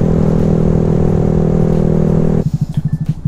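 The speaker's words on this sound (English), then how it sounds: "the M4 exhaust on this Grom is insane. It's like got a really deep tone," Honda Grom motorcycle fitted with an M4 exhaust, loud deep-toned engine held at high revs, then dropping to a pulsing, burbling idle near the end.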